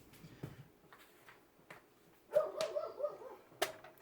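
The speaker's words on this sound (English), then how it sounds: "Hear the puppies? Yep, they're having fun." Faint, distant yips and small whimpering barks from young dogs in a quiet room, with a few soft knocks and clicks scattered around them.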